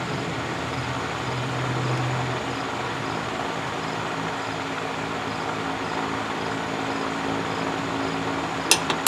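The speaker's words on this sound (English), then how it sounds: "I apologize for the fan noise" An electric fan runs steadily in a hot garage during a car timing chain repair on a 1999 Pontiac Grand Am 2.4L, a constant broadband whoosh with a low hum, with a couple of faint clicks near the end.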